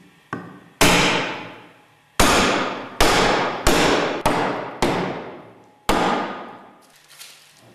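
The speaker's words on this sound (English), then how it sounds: "Drive the closing chamber bottom downwards using light blows with a mallet." Mallet blows driving the closing chamber bottom into the annular piston during a Westfalia purifier overhaul: about eight sharp, ringing metallic strikes at an irregular pace, each decaying slowly, close and loud with no talk.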